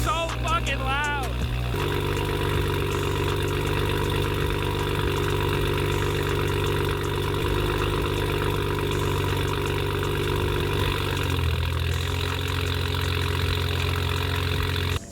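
A loud BMW M340i engine idles steadily, a constant rumble with harmonic hum, after a brief revving start; no voices.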